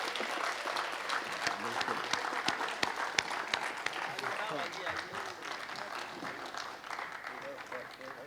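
An audience at an Urdu poetry recital, a mushaira, breaks into applause; scattered clapping with sharp individual claps and crowd murmur, moderately loud, running under background voices.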